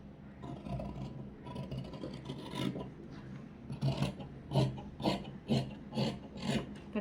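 Scissors cut through blouse fabric at a tailoring table, a run of rasping, scraping snips that grows more rhythmic and pronounced toward the end, close and fairly quiet.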